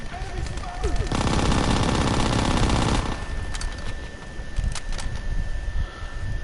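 A Thompson submachine gun in Call of Duty WW2 fires one sustained rattling burst of about two seconds, close and loud, then scattered distant shots and game noise follow.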